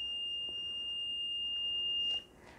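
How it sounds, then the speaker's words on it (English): A stationary football play clock and delay-of-game timer sounds its end-of-period alert, one continuous high electronic beep held for about two seconds before stopping sharply, with only quiet room tone after. "3 second end of period beep."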